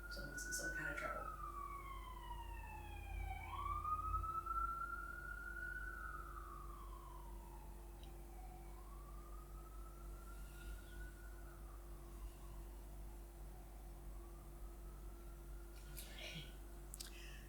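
A distant wailing siren rises and falls in long sweeps over a quiet indoor hum, with a few faint soft noises nearby.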